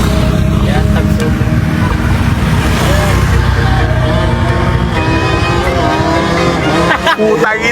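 A KTM two-stroke motorcycle engine revs hard and loud throughout, a raspy, buzzing roar with shifting pitch, close by, with excited voices and crowd chatter mixed underneath.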